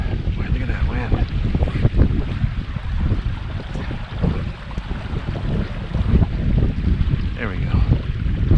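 Gale-force wind blasts across the water during a fishing outing in Wisconsin's Driftless region, a heavy, rumbling, gusty roar buffeting the microphone throughout with surging and easing pulses.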